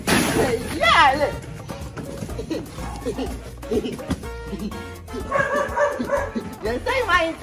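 Dogs bark and yip in short bursts amid loud, lively talking and background bustle outdoors, the animals partly buried under the voices.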